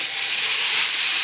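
Lentil bori, sun-dried lentil dumplings, hit hot oil with a loud, steady broadband sizzling hiss that fills the short moment without any talk.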